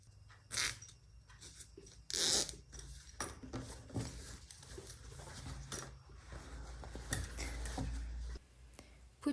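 Zipper pulls being fitted onto zipper tape during tote bag making, giving short scattered zips, clicks and rustles close by in a quiet room.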